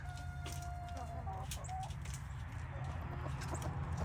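A big rooster kept with silkie chickens clucks in short, quiet bursts outdoors on a sunny day, over a low steady background hum.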